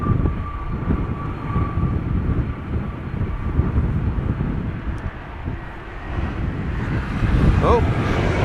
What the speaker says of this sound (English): Delta Airlines Flight 57, outbound Salt Lake City, Airbus A330neo, brand new.